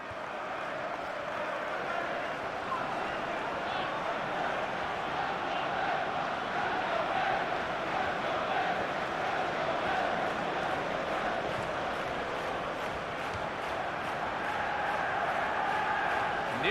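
A stadium crowd in the football video game FIFA 14 roars continuously, a broad, loud wall of cheering and chanting that stays steady throughout with no clear pause.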